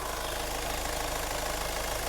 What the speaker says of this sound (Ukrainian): Двигун працює чудово, гарно заводиться машина на холодну і на гарячу.